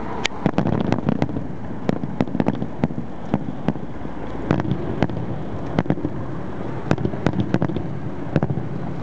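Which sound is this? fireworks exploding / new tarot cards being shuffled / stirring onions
fireworks exploding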